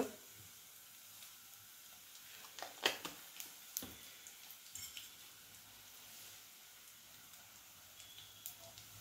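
Mustard seeds, cumin and asafoetida sizzle and crackle in a little hot oil, a quiet frying hiss broken by scattered sharp pops of bursting seeds, heard close up with no talking.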